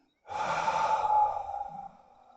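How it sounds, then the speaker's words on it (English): A single long, deep exhale during guided meditation, a soft breathy sigh lasting about a second and a half, close to the microphone in a quiet room. "Breathing out."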